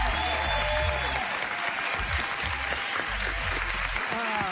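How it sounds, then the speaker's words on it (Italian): A studio audience at a radio show breaks into sustained, dense applause that fills the whole stretch at an even level, with faint voices underneath. "dedichiamo un applauso di questo pubblico ferventoso"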